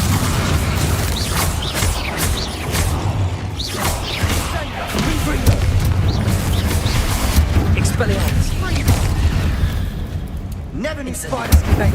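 Confringo spell blasts in the Hogwarts Legacy video game, repeated booms and thuds during a fight against spiders, layered under frequent spoken voices and combat noise.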